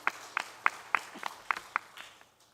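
A church congregation claps together in about eight brisk, evenly spaced beats that fade out at the end.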